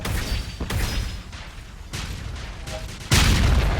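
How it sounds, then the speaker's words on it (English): Explosions from a Godot-made shoot 'em up video game burst in a rapid series of booming blasts, with a sudden, much louder explosion near the end standing out from the rest. "there might be a really loud explosion coming up"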